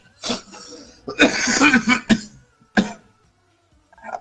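Several harsh coughs in bursts from a person on a PS4 live broadcast, close and loud, with short gaps between fits and a brief rasp near the end.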